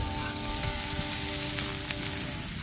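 Onion frying in a pan at a riverside camp, with a steady close sizzle that holds evenly throughout and has a few faint clinks mixed in.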